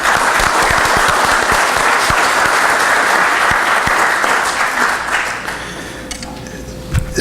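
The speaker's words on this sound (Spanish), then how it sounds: "Un aplauso por el minero." Sustained loud audience applause at a Miner's Day event honoring mine workers, dense clapping filling the room before fading out near the end.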